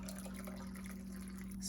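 Boiling water poured for a quick pickle brine of white vinegar, salt and sugar, a faint steady liquid trickle over a low constant hum, brief and quiet.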